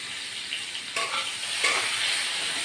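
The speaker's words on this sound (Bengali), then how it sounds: "তাড়াতাড়ি রান্না করার জন্য সব একসাথে এইভাবে ভেজে নিচ্ছি।" Cauliflower and potatoes frying together in oil in a pan for a fish curry, a bright, steady sizzle that swells with two sharp stirring scrapes and grows louder toward the end.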